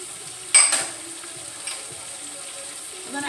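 Vegetables go into a pan of frying Caribbean curry chicken: a sudden clattering splash, then a low, even sizzle with a faint knock later, heard close with no talking.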